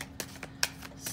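Tarot cards slapped down one by one onto a table, five short crisp card snaps spaced across a second, quiet and close with no talk.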